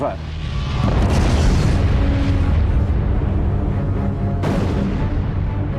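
A supernova explosion sound effect for a space documentary: a huge, deep booming roar that swells almost at once and rumbles on continuously, with a second sharp burst near the end.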